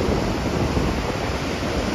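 Steady ocean surf washing onto a beach, a continuous broad roar of breaking waves with wind noise, fairly loud and close, with no voices.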